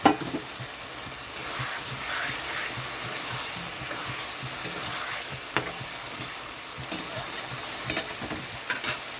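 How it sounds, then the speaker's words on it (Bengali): Spice paste stirred and frying in a pan with a little water added, for a bhola fish kalia, giving a steady close sizzle with soft scraping stirs and a few sharper clicks throughout. "খুব অল্প পরিমাণে একটু জল দিয়ে দিচ্ছি মশলাটা ভালো মতো কষানোর জন্য"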